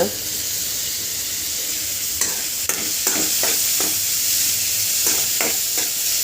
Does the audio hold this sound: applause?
no